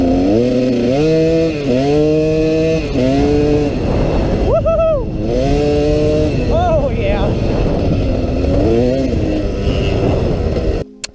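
A KTM two-stroke motorcycle engine with a red power valve spring runs loud and close, revving up and down repeatedly in rising and falling sweeps. A high, buzzy two-stroke whine fills the whole stretch before it cuts off abruptly.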